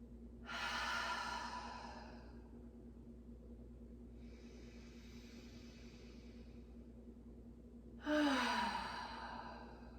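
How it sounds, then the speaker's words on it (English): Slow deep breaths during a yoga relaxation, two long airy exhales a few seconds apart and a softer breath between them, close and quiet against a faint steady hum, no talking. "take a couple really deep breaths"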